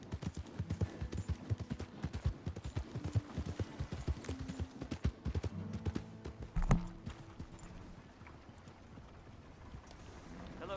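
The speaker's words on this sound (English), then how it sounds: "Hey! My horse!" Steady clip-clop of horse hooves trotting close up in the video game Red Dead Redemption 2, loud and rhythmic, with low musical tones underneath before the hoofbeats fade out.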